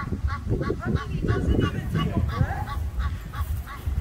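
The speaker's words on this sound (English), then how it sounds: "The goose just goes on and on." Goose honking continuously outdoors in South Florida, with loud, repeated honks in a steady stream and almost no pause.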